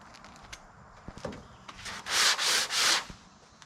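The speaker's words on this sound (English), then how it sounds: "Now you can sand this way" Hand sanding of sheet metal during body repair, a few soft scuffs and then three long, loud rasping strokes in quick succession, close and alone.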